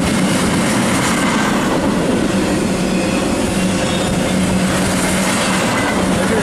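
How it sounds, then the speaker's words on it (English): Freight train passing close by, a continuous loud rumbling roar with rattling wheels and rail noise throughout. "I'm trying to get around that freight train."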